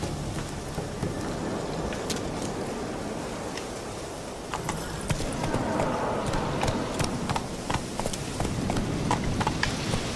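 Horse hooves clip-clop steadily across the ground in The Witcher 3, a continuous rhythmic patter of hoofbeats close up, layered over a faint rain-like hiss throughout.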